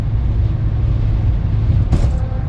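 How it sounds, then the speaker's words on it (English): A loud, constant low roar of wind and road noise fills the cabin of a 2014 Honda Ridgeline pickup at 75 mph, with a short hiss near the end. "So I just bumped it up to 75, and you can hear the wind noise."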